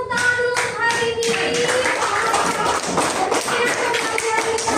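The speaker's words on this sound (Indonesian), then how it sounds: "semuanya tepuk tangan dulu untuk hari ini" A classroom of students claps together in a brisk, continuous burst of hands close by, some rhythmic claps standing out, with no talk over it.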